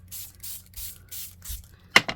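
Acrylic ink is sprayed onto collage paper in five short, even hisses from a spray bottle, followed by a couple of sharper clicks or taps at the end.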